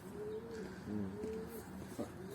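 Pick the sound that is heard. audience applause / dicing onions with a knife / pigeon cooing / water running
pigeon cooing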